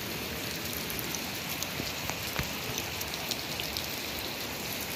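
Water streams and drips from inside rocks by a river, making a steady, dense hiss like heavy rain, close and continuous with scattered louder drop splashes.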